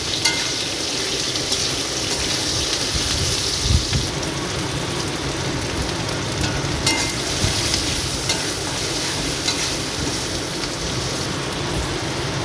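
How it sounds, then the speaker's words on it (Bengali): Potatoes frying in a pan, a steady dense sizzle and crackle with occasional stirring clinks, continuous and close throughout. "আলুগুলো ভাজা ভাজা হয়ে গেছে।"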